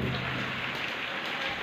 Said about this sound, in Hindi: कोई नहीं बरसात का मजा ले रही है